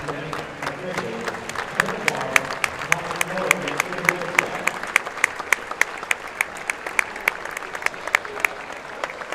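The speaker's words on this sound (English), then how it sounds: "Please stand and show your appreciation by giving a round of applause to the academic officials," Steady crowd applause fills a high school basketball gym at a Trailblazer Conference tournament game, dense clapping throughout with sharper individual claps standing out near the front, and some voices mixed in early.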